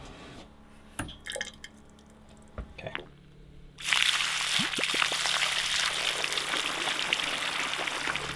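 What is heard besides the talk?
water draining from water heater through a hose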